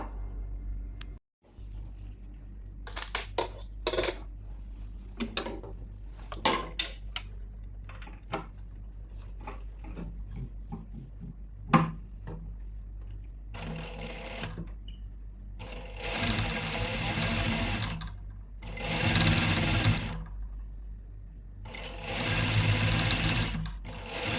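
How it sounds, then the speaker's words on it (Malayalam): A sewing machine stitches fabric nearby, starting with scattered short clicks and handling noises, then running in several long, steady whirring bursts. "അപ്പം ഞാൻ സ്റ്റിച്ച് ചെയ്യുന്നത് കാണിക്കാം കേട്ടോ"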